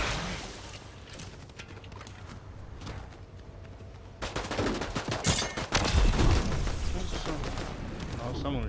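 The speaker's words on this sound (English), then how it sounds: "someone was shooting me" Gunfire in a Fortnite match: quiet scattered shots and footsteps at first, then a denser, louder burst of rapid shooting and impacts. A player's voice comes through over the game sounds.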